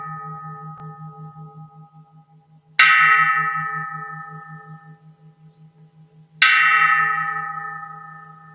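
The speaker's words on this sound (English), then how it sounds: "Listening to the bell, I feel the afflictions in me begin to dissolve." A meditation bell is struck twice, several seconds apart, each strike ringing out clearly and then fading in a long, shimmering, wavering hum that lingers between the two strokes.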